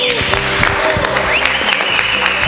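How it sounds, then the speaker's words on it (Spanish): A church congregation applauds during a service, producing loud, continuous clapping over sustained musical tones and voices. "dale un aplauso a Dios."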